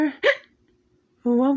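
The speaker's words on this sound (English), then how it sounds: "Sounds like a bad case of hiccups" A cartoon character hiccups in an animated short, one sharp, voiced hic between stretches of animated character speech.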